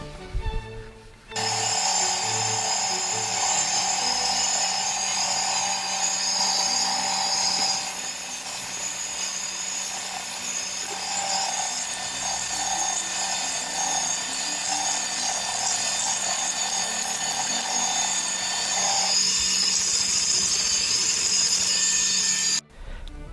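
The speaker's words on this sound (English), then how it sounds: "turn it around, give it a final sanding in reverse" A loud, steady whir of a spinning lathe with continuous abrasive rubbing as tulip poplar wood is sanded in reverse, running unbroken for over twenty seconds before cutting off.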